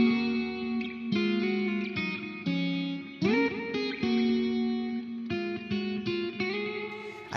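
An electric guitar played through a Fender amp model with Genesis and Blue Alnico speakers, plus internal reverb and delay, rings out in clean melodic phrases, notes struck in a steady rhythm with a smooth echoing sustain.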